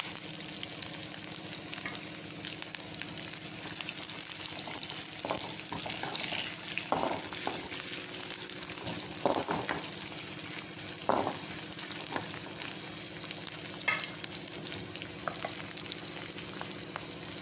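Onions, curry leaves, green chilies and mustard seeds fry in a pan with a steady moderate sizzle, broken by intermittent scraping and stirring clatters and no talking.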